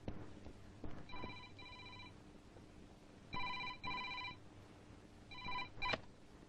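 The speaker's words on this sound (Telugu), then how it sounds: "నీకు ఎస్పీ గారి ఆఫీస్ నుంచి ఫోన్" A telephone bell ringing in bursts of electronic trilling, several rings spaced apart, fairly faint against a quiet room.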